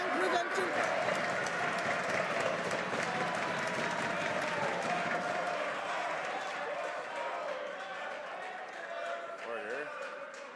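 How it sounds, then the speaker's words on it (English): Members of the House of Commons applaud during Question Period, a dense, sustained wash of clapping from a large chamber that fades slightly toward the end while voices mingle underneath. "I'll ask members to hold off on their applause until the member for Newton North Delta has done so"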